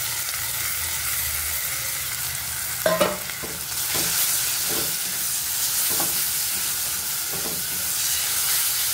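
Grated tomato sautés in a pan of chicken curry, a continuous loud sizzle and hiss with occasional stirring scrapes and clanks, no voices.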